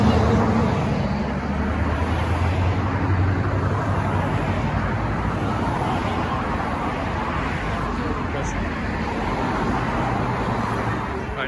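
Road traffic in Gainesville fills the air with a constant broadband roar of passing cars, steady and fairly loud, with no talking over it.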